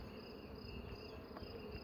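Bees buzzing inside an open beehive, a dense continuous drone with a steady hum and high whine, close and even throughout with no voices.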